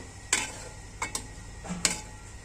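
Fish bhuna being stirred in a pan, with three or four sharp spatula scrapes against the metal over a faint background sizzle, close and quiet.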